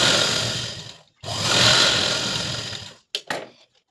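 A sewing machine stitches a katori blouse in two steady running bursts, a longer one followed by a short pause and a brief stop-start at the end, close and fairly loud with no talk.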